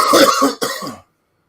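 Two harsh coughs in quick succession, close and loud, then silence.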